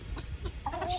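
An old, aggressive farmyard rooster and other chickens cluck close by in a short burst of overlapping calls.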